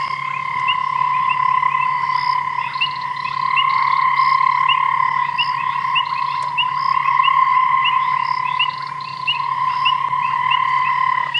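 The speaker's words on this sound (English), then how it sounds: "Which frog is making that noise?" Frogs call in a continuous, loud, steady chorus of repeated pulsing croaks after sunset during a safari drive in the African bush, close by and without voices.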